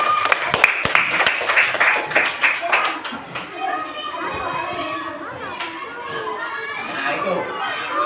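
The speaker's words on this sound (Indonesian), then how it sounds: "Tepuk tangan dulu." Schoolchildren in a classroom break into a quick burst of rhythmic group clapping with excited chatter, then the clapping stops and kids keep talking over a busy room.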